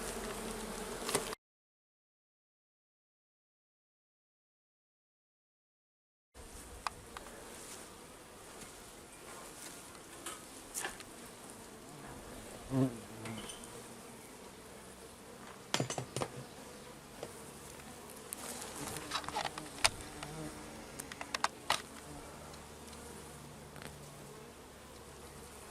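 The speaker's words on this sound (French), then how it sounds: "Ça dégueule d'abeilles dès qu'on ouvre le couvre-cadre." A dense, continuous buzzing of many honeybees at an open hive, steady and close, with occasional faint clicks and bumps; a few seconds of silence near the start.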